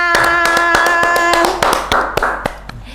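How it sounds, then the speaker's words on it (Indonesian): Several sharp hand claps land in a steady rhythm, loud and close, over a sustained musical tone that fades midway. "Tepuk tangan."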